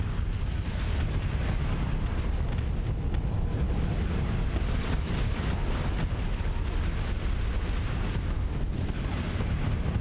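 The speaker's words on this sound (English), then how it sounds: "So, ion cannons." Ion cannons fire in the Starsector space game with Star Wars mods, a dense continuous roar of crackling energy blasts and rumbling booms filling the whole stretch at steady high intensity.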